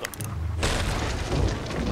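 A single deep cannon boom from a ship-combat video game bursts out loud, followed by rumbling mechanical noise and the roar of the blast fading.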